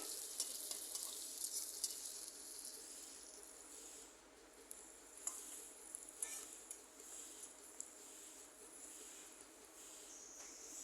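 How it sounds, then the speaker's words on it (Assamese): Steady crackling sizzle of onions frying in oil, bright and continuous throughout with occasional louder pops, no talking. "ইয়াতে মই এই পিঁয়াজখিনি এতিয়া ভাজি ল'ম ৰঙচুৱা হোৱালৈকে"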